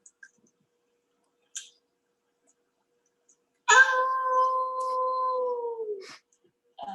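A dog gives one sustained howl of about two and a half seconds, fairly close, after a few faint clicks in near silence.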